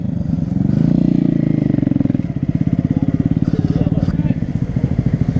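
A Honda Grom motorcycle idling at an outdoor car meet, its small single-cylinder engine putting out a loud, close, steady rapid chug, with people talking nearby.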